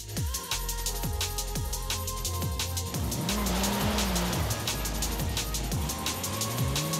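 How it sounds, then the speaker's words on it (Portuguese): A 1999 Dodge Viper GTS ACR drives in Forza Horizon 5, its loud engine revving hard through repeated gear shifts, with tire squeal and skidding at close range and no talk. "Vamos tentar pegar esse Viper para dar um rolê com ele."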